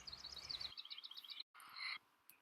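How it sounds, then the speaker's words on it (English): A house wren sings a rapid, bubbling string of high chirps that then breaks off, followed after a short gap by a further burst of bright trilled notes, all fairly distant over a faint background hiss. "Like this house wren."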